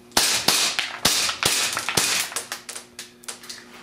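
A gas blowback airsoft gun fired rapidly with a body-warm magazine, a string of about a dozen sharp, close snapping shots that start hard and grow slightly softer toward the end, with no talking.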